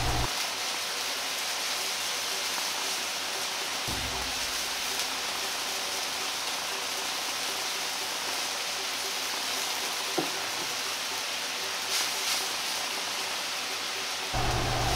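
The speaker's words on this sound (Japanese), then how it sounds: "たっぷりの湯を沸かし、" A large pot of water simmering on the stove with wontons added for Sichuan-style wontons, giving a steady, dense bubbling hiss throughout with a few brief clunks and shifts, and no voices.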